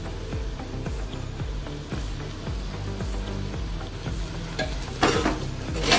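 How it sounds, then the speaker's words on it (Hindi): A spoon stirs vegetable biryani masala in a pan with spices and biryani masala powder, scraping in a repeated rhythm over a soft sizzle, with a louder clatter near the end. "घाटी दे भल से।"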